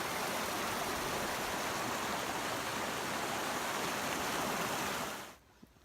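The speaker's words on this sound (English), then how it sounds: "So that's the river that I'm going to get some water from." Steady, full rushing of a mountain river stream flowing nearby, dense and constant before cutting off abruptly near the end.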